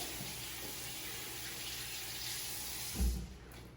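Water running steadily from a tap while hands are rinsed, a quiet continuous splashing stream with a brief soft thump near the end, no talking.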